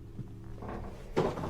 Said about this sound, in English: Guys, the door's just opened.